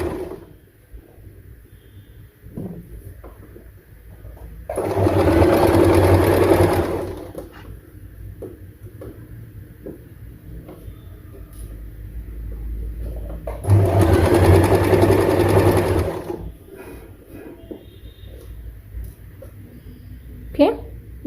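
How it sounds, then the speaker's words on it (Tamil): A sewing machine stitches ready-to-wear saree pleats in two loud bursts of a few seconds each, with quiet handling and a voice talking between runs. "பார்த்து செக் பண்ணிவிட்டு அப்புறமா ஸ்டிச் பண்ணணும்."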